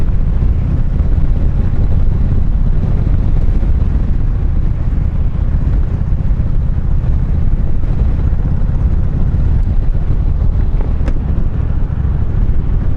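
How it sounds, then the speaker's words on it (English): Strong wind roars continuously against the microphone of a moving motorcycle rider, a loud, unbroken rumble with no pauses, like gusts buffeting someone outdoors. "Yeah, you can see all the trees blowing around."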